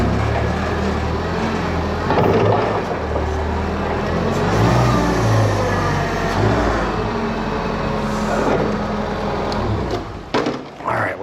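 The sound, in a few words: forklift engine loading a truck with lift gate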